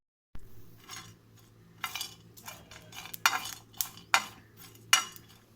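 A knife cuts through fried ingredients for paneer curry, giving a series of sharp, close chopping knocks and clinks against a board or plate, spaced irregularly and growing stronger toward the end.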